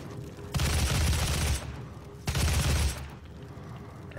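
Enemy gunfire from Doom SnapMap, two loud bursts of rapid shooting, the first lasting about a second and the second shorter, set against a quieter game background with no talk.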